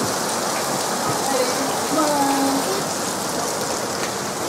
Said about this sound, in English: Rain makes rainforests.